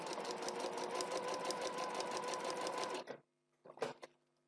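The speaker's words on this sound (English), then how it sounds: "I'm going to stitch along the line, but I'm going to start a couple of stitches before the line" Sewing machine stitching fabric along a marked line, a steady rapid run of stitches for about three seconds, then stopping, followed by a short burst of handling noise.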